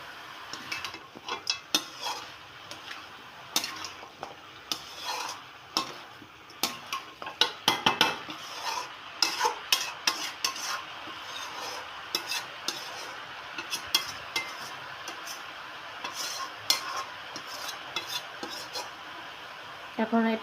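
Prawns frying in a pan and being stirred, with repeated sharp scrapes and clinks of a spatula against the metal over a low sizzle, close and irregular throughout.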